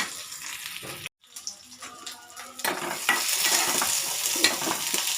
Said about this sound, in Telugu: ఇది మంచిగా ఉల్లిపాయ అన్నీ బాగా వేగనియండి